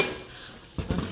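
A large non-stick casserole pot is handled, giving a brief clatter of metal after a quiet moment, close and fairly soft.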